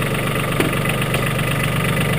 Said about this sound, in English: The Mahindra 1526 seems to handle the snow pretty well with these farm tires on